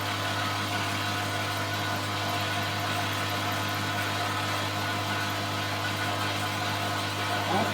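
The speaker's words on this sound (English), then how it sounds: "you hear my compressor going on" An air compressor runs in a scroll saw workshop, a loud steady motor drone with a constant low hum that continues unbroken throughout.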